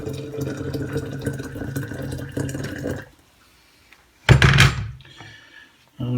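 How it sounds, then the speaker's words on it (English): Boiling water splashes and gurgles loudly into a caustic soda jar for about a second after a stretch of clattering, rumbling activity, then fades to quiet. "add our boiling water"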